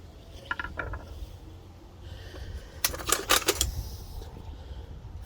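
A vintage Stanley Workmaster multi-bit screwdriver with a twisty ratcheting handle gives a few soft clicks, then a quick, close burst of ratcheting clatter. The clatter fades into quiet handling noise with no talk.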